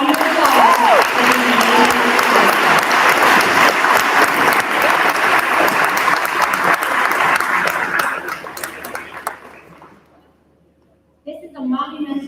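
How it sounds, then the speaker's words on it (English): Loud audience applause fills an awards-night hall, sustained clapping for about eight seconds before fading to near silence, then a short fresh burst of clapping at the end. "Let's give a round of applause."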